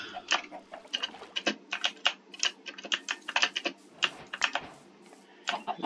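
Rapid, uneven typing on a computer keyboard fills the stretch, close and clattery with bursts of keystrokes and brief pauses, no voice over it.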